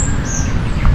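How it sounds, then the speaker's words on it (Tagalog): A brief harsh bird squawk with a thin high call over a noisy outdoor background. "ang ingay ng ibon sa taas oh"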